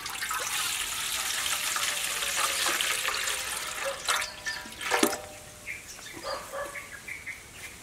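Water is poured into a cooking pot while making agati sour soup: a steady splashing pour gives way to scattered drips and small splashes, fairly quiet, with no talking.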